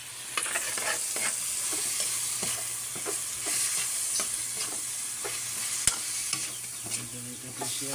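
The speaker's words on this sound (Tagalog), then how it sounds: "Haluin natin." Beef caldereta with tomato paste stirred in a pan, a spoon scraping in steady repeated strokes over a soft constant sizzle, close and fairly quiet with no talking.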